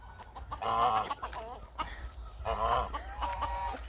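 Farm fowl and geese roaming a village yard, two loud, close bursts of squawking calls separated by quieter clucking, with no talk.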